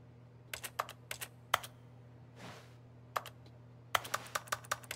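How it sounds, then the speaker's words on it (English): Keyboard typing sound effects from The Stanley Parable video game come in crisp clustered taps, a short run, a single tap, then a quick burst of about eight keystrokes over a low electrical hum, with a soft breathy swish between. "Why does everything make a keyboard sound?"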